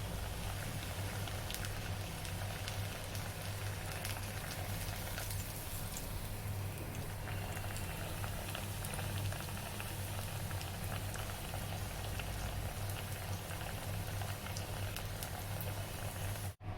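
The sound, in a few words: taro slices deep-frying in hot oil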